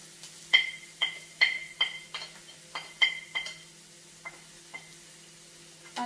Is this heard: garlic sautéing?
yes